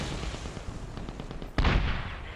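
Medal of Honor weapon fire: a rattle of quick shots in the background, then one loud, close gunshot with a booming tail.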